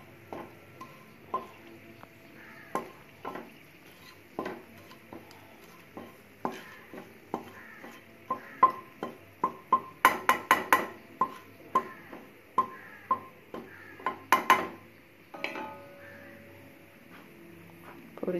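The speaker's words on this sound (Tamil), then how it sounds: "இது நல்லா பொரிஞ்சு வதங்கி வரும்போது" Whole cinnamon, cloves, cardamom and a bay leaf frying in oil for paneer masala, with a soft sizzle under repeated sharp taps and scrapes of a spoon against the pan, the clatter bunching into quick bursts.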